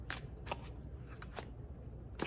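Tarot cards are shuffled in quiet, crisp riffles and slaps, several brief bursts spaced over a couple of seconds, soft and near with no talking.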